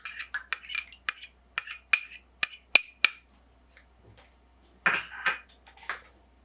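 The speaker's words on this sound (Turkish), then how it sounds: "ılık sütten de kasemizi alıp tekrar çırpıyoruz" A series of sharp clinks and scrapes as warm milk is whisked in a bowl for homemade yogurt, quick and rhythmic, followed by a brief pause and a louder rattling burst near the end.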